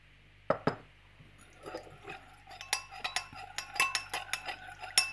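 A spoon stirring Thai iced tea ingredients in a glass: two sharp clinks at the start, then a rapid, irregular run of light metallic taps and scrapes against the glass, close and clear.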